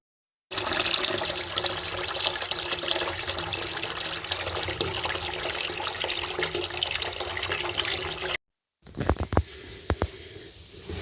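Whey drains from boiled ayran poured into a cloth bag, a steady close splashing and running of liquid for about eight seconds. After a short break, a few faint knocks follow.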